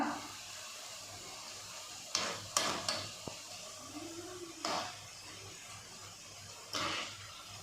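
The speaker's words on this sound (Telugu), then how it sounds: "డీప్ ఫ్రై 5 నిమిషాల తర్వాత ఈ విధంగా డీప్ ఫ్రై చేసుకోవాలి." Bitter gourd masala deep-frying in a pan while being stirred, a steady low sizzle broken by several short scraping stirs and clinks, close up with no talking.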